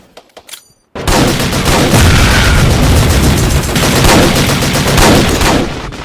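Sustained loud burst of machine gun fire in a plastic army men battle scene, dense and continuous for several seconds after a brief quiet lead-in, with no talking.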